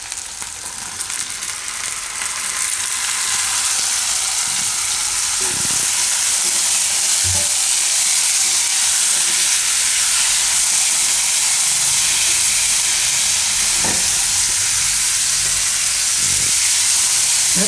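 Raw green tomatoes frying in a pan for a Gujarati tomato shaak, a loud, steady sizzle and hiss that rises in the first seconds and holds with occasional soft stirring clicks.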